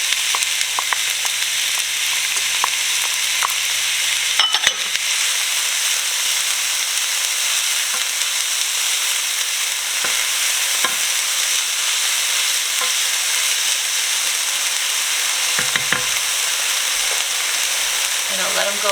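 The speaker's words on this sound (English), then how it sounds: "The oil is good and hot. I'm going to add my onions. And the peppers." Onions and peppers frying in hot oil for a meatloaf, a loud, steady sizzle and hiss close by, broken now and then by stirring clatter and brief knocks.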